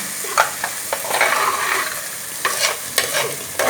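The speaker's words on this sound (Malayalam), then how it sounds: "നല്ലതായിട്ട് വഴറ്റിയെടുക്കുക" Onions sauté with salt and turmeric in a pan, sizzling steadily while a spoon scrapes and stirs in repeated strokes, close and alone.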